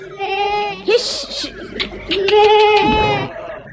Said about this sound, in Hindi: मैं बकरियों को बाड़े से बाहर निकाल कर ले जा रही हूँ